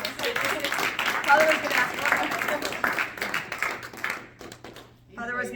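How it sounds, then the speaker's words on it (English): An audience applauds at the end of a talk about Catholic identity. The clapping is a dense, steady patter that fades near the end, with a voice breaking in over it at the close. "I'm not gonna stop the applause, my goodness."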